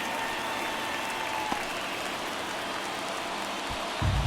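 Steady stadium crowd roar from the baseball video game MLB The Show 24, a continuous wash of ambient fan noise through the ninth inning, swelling slightly louder near the end, with no talk.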